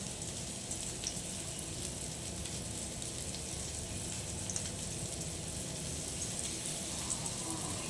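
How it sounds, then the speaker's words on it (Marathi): Rava-coated fish fry in hot oil on a griddle, producing a faint, even, unbroken hiss of sizzling. "तेल जसं तापलं तसे मासे मी रव्यात बुडवलं आहे आणि तव्यावर"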